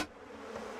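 A short, continuous buzzing drone like bees swarming, steady and fairly close, with no voices, from a Simpsons cartoon.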